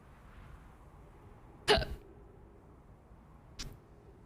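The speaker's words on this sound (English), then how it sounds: "Hiccups." Hiccups: two short, sharp hiccups a couple of seconds apart, close and fairly quiet over a faint background.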